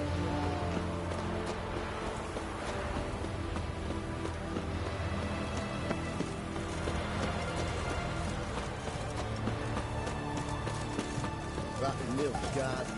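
A horse's hooves clip-clop in a fast, steady gallop over a dense, busy soundscape in the video game The Witcher 3, continuous and fairly loud.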